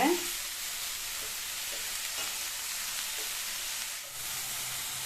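Bitter gourd pieces stir-fry in a pan over high flame, giving a loud, continuous hiss of sizzling oil with faint scraping from stirring throughout.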